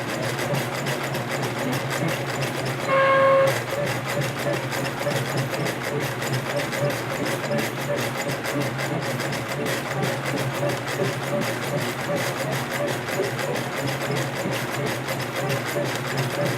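A homemade embroidery machine built from CNC parts stitches short stitches at high speed, a dense steady mechanical whir with a fast rhythmic clatter running unbroken throughout, close and fairly loud, with one brief tonal beep near the start.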